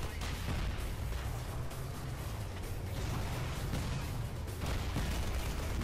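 Booming tank cannon fire and battlefield rumble in Frontlines: Fuel of War, dense and continuous low thuds with scattered gunshots, no clear speech on top.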